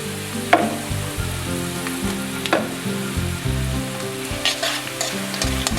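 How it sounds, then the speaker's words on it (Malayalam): Ingredients for Kerala-style prawn pickle sauté in a hot pan with a steady close sizzle, broken by a few sharp scraping stirs of a spoon against the metal. "നന്നായി ബ്രൗൺ കളർ ആകുന്നത് വരെ വഴറ്റിക്കൊണ്ടിരിക്കുക."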